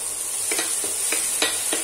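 Red chili frying in a pan for Schezwan chutney, a constant bright hiss of oil with four or five soft stirring scrapes spaced through it, close and steady.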